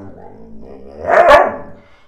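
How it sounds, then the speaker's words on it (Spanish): A dog close by gives a drawn-out, vocal bark that rises from a low growly whine into one loud, talkative yowl before trailing off. "aquí mi perro está hablando"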